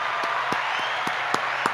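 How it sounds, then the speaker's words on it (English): Steady applause continues throughout, with several sharper claps standing out close by in a loose rhythm. "I have to give you some applause for that."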